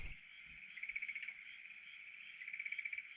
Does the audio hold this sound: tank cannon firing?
no